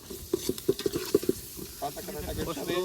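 Ginger garlic paste frying and being stirred in a pan for a village-style chicken fry cooked outdoors by a dam, with a run of sharp stirring scrapes and clicks over a steady sizzle, close and fairly loud.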